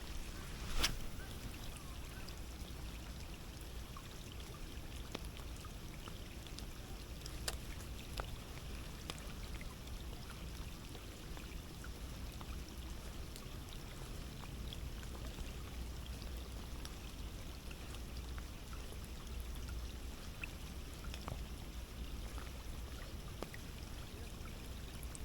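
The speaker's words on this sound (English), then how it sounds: "Then it started to rain early this morning. And what a wet morning it is." Steady rain on a wet morning in Fukuoka, Japan, a continuous even hiss of falling drops with occasional sharper ticks, no voices.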